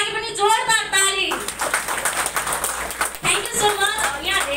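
A voice speaks first, then an audience at a Healthy Living Nepal event in Damak breaks into loud, brisk clapping that runs for a few seconds before the voice returns.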